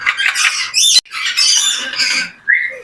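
Loud, harsh squawks from pet birds in a bird farm, close to the microphone in a few rough bursts with a sharp break near the middle and a shriller call at the end.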